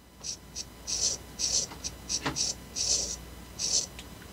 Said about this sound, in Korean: 스마트폰 화면에 글씨를 쓰시면 돼요